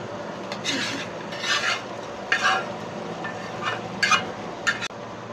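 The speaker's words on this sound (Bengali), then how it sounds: "এই চিংড়ি মাছটা দেওয়ার পরে আমি আরও 2 মিনিট ভালোভাবে কষিয়ে নিব" Fried shrimp and Malabar spinach being stirred in a pan, with repeated scraping stirs in bursts over a steady soft sizzle, close and moderately loud, no voices.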